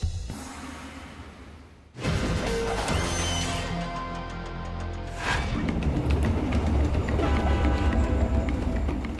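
Diesel-electric locomotive train: after a quieter opening, a sudden loud onset of heavy rumbling engine and rolling rail noise, a deep roar with rattling and clanking that swells again and stays loud to the end.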